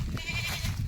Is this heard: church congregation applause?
no